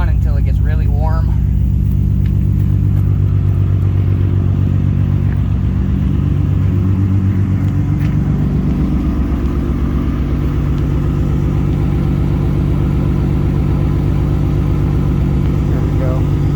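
A Nissan Skyline R32 GT-R engine with an R35 coil kit idles steadily while warming up, a deep, even rumble, loud and close, holding a constant low throb throughout.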